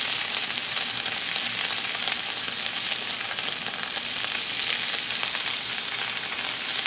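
A Wagyu ribeye sears in a hot pan on a PK360 grill, a loud, continuous, close sizzle of hissing fat that holds steady throughout.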